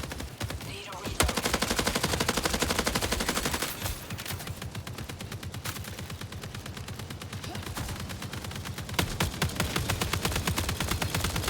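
Sustained automatic gunfire from an LMG in the sci-fi shooter Marathon, loud rapid bursts running nearly continuously with dense repeated shots and brief gaps, up close.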